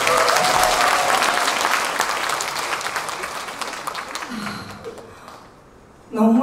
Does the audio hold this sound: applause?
yes